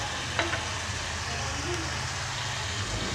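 Garlic-ginger paste and whole red chillies frying for dhaba-style mutton keema give a steady, close sizzle with a faint stir near the start.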